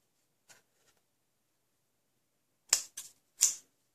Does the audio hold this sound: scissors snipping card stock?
yes